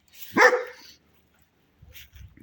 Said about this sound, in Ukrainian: Чого ти гавкаєш?